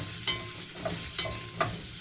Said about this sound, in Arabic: هشوح كده الطماطم مع الجزر مع البصل